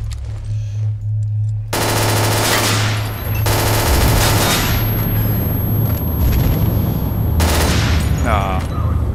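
Loud gunfire in the video game S.T.A.L.K.E.R. Shadow of Chernobyl: sustained automatic bursts with sharp cracks and booms, separated by brief gaps, under a constant game hum.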